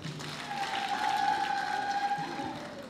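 A crowd at a school Form Six graduation ceremony applauds its teachers and leaders, producing a sustained wash of clapping with a faint tonal whistle or ululation running through it.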